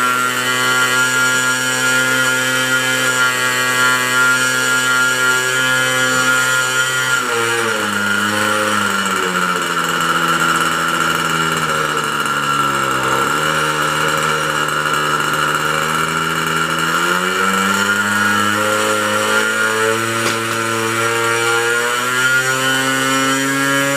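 A GMS 2000 .47 two-stroke nitro model engine runs loud and close, a steady buzzing drone that sags lower mid-way, then climbs back up to a higher pitch.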